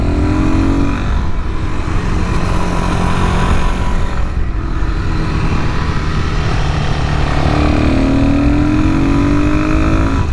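A Suzuki DRZ400SM motorcycle with an air box modification is ridden, its engine droning loudly and steadily with rising and falling pitch as it accelerates, under heavy wind rush.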